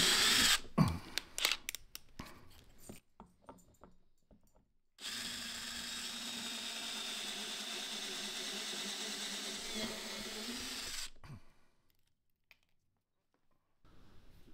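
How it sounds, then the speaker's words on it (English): A power drill with a quarter-inch bit bores into a soft polypropylene trailer fender, a steady whirring run of about six seconds. Before it come scattered clicks and clatter, and quiet follows. "I like drilling into soft thermoplastics like polypropylene with a slow bit"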